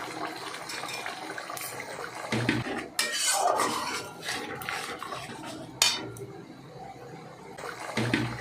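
Spoon scraping and clinking against a pan as spice mix is stirred with sour yogurt while cooking jackfruit curry, with irregular close metallic knocks and wet scraping, no talk.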